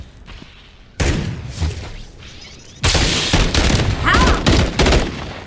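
Bursts of automatic gunfire and booming shots in a Call of Duty match ring out in two heavy volleys, loud and close, with a player's brief voice between them.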